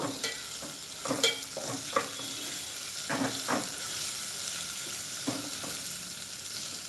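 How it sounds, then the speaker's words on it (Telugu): Onions frying in a mix of oil and ghee for gongura mutton biryani: a steady close sizzle broken by repeated scraping and stirring strokes of a spoon in the pot, with no talk. "ఇవైతే బాగా వేగాలి ఆనియన్"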